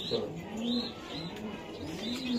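Racing pigeons in a breeding loft coo repeatedly in low, rolling phrases, several birds overlapping at close range with faint chirps in the background and no talking.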